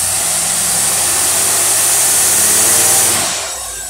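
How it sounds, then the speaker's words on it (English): Two-barrel carbureted marine engine running rough on only half its carburetor, a loud continuous roar with a hissing, uneven vibrating note that drops off near the end. "it's only running half the carburetor"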